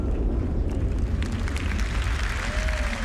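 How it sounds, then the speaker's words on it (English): A MOAB bomb explodes in the video game Star Citizen with a sustained, roaring blast of deep rumble and crackling debris, loud and continuous, with a faint whistling tone near the end. "And the explosion itself."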